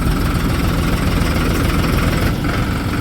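A Farmtrac tractor engine idles steadily and close by, a constant low rumble with slight vibration throughout.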